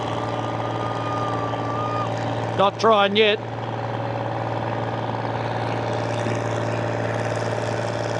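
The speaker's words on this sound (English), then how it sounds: "let's watch a few of the tractor pulls" A tractor's engine rumbles at a tractor pull, holding a steady low idle drone with strong harmonics throughout; someone speaks briefly near the middle.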